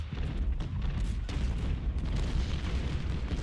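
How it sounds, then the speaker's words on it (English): An artillery barrage in the Civil War strategy game Ultimate General: Civil War, heard as a dense, continuous low rumble of booming cannon fire with overlapping blasts and no speech. "This is going to be a pretty brutal barrage right now,"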